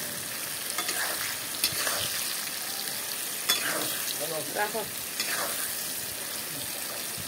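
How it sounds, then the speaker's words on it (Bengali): Potatoes and onions frying in a pan for a green chilli chicken dish, a continuous close sizzle with intermittent stirring scrapes and soft utensil knocks. "আলুগুলো ভাজা হয়ে গেলো, তারপর পেঁয়াজগুলোকে ঢেলে দিলাম।"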